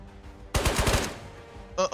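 An SKS rifle in the Ghosts of Tabor game fires a quick burst of about four loud, sharp shots in succession, followed by a short metallic clack.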